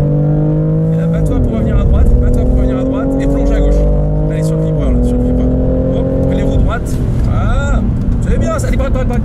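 A BMW M3 engine accelerates on the Bugatti circuit race track, a loud, close in-car drone climbing in pitch through the gears with brief dips at shifts, under an instructor's coaching voice.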